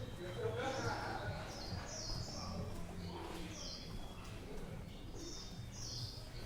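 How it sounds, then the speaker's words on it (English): Birds chirp and twitter in short bursts over a steady outdoor hum on a Hanoi city street, with someone talking underneath. "I can hear those birds."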